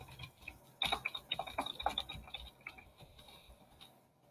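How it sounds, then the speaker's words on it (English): Fingers tap quickly on a computer keyboard while personal details are entered into an online credit card pre-qualification form, a faint, uneven patter of soft key clicks with brief pauses. "So let me start typing in some of my information."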